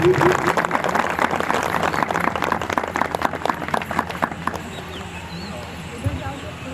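Audience applause at an annual conference in Salhewada, Balaghat, India, welcoming a guest; a dense burst of clapping fills the first few seconds, then thins and fades, with an announcer's voice over it.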